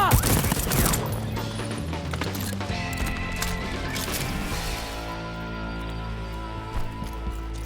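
A sustained, loud burst of video-game machine gun fire rattles continuously for several seconds over a busy layer of game music and effects, with a voice talking in places.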